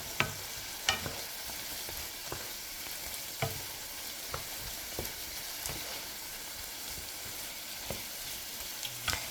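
Smoked sausage pasta sizzles and fries steadily in a large Paula Deen frying pan as canned Rotel tomatoes go in, with sharp clicks and scrapes of stirring breaking through the constant crackle.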